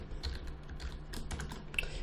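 Typing on a computer keyboard during Photoshop work, a close run of quick light key clicks in uneven bursts, alone without speech.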